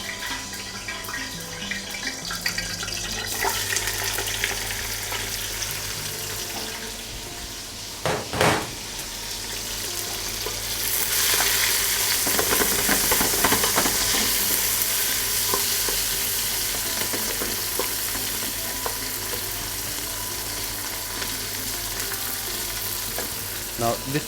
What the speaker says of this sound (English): Once the oil heated up, we'll add 2 onions.